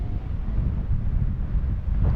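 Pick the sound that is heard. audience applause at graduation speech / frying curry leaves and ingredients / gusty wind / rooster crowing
gusty wind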